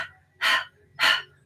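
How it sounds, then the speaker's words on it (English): Two sharp forceful breaths pushed out from the belly, like a panting dog, in kundalini yoga breath of fire; evenly spaced bursts about half a second apart, close and clear, with faint low hum between. "If I sit on my heels and I start panting like a dog,"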